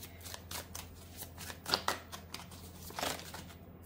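Tarot cards being shuffled by hand, a series of soft papery riffles and flicks in quick irregular bursts, quiet and close with no talking.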